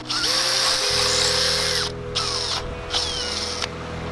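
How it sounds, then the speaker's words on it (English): Power drill boring a screw hole into locust wood while preparing a boat's mizzen, a loud whining run followed by two shorter bursts, close and alone. "make sure, that the locust is drilled the full diameter"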